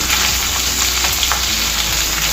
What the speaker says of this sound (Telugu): ఇవన్నీ వేసుకున్నాక ఇవన్నీ కొంచెం దూరగా వేయించుకోవాలండి